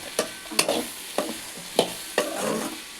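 A spoon scrapes and stirs okra with turmeric in a pan at a steady rhythm, six or so distinct strokes over a soft sizzle of frying.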